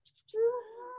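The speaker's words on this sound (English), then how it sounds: "I like your cat." A cat gives a single drawn-out, tonal meow up close, rising and then sustaining before trailing off, preceded by a few faint soft clicks.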